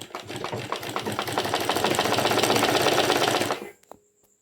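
A sewing machine stitches along saree falls at a steady rapid clatter, loud and close, running for about three and a half seconds before stopping abruptly, with no talk.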